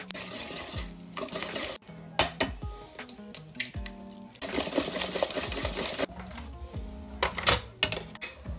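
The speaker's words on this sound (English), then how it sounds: "Now we're gonna add 2 eggs, mixing thoroughly between each." Eggs being mixed into banana bread batter with an electric mixer, a loud buzzing whir that runs in bursts and stops briefly between them, close by, with faint clatter.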